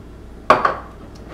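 A utensil knocks twice against a bowl while mixing dough for a microwave chocolate chip cookie: one sharp clink followed quickly by a softer second tap, then a quiet kitchen.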